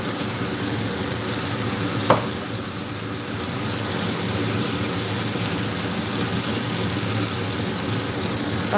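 Onion frying in oil in a pan for yam cake gives a steady, dense sizzle like light rain, close and even throughout, with one short sharp clink partway through.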